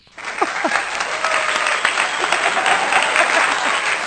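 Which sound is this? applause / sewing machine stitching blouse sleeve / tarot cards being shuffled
applause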